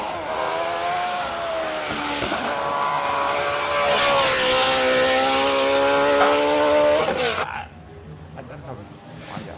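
A race car engine roars loudly during qualifying at the 2023 Simola Hill Climb, climbing in pitch as it accelerates, then cuts off abruptly. A voice talks faintly underneath.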